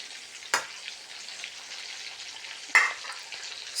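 Chicken pieces frying in a pan, turning brownish, with a steady broadband sizzle throughout and two sharp louder bursts of spitting near the start and again later, no talking.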